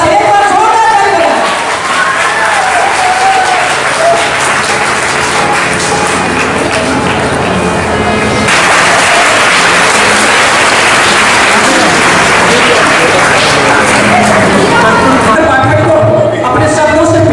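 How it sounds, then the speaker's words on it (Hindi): Loud applause from a large crowd at a public ceremony in Darbhanga honouring a spiritual teacher, dense clapping filling the scene almost continuously with a brief dip near the middle, while a voice speaks over it. "एक बार जोरदार तालियां।"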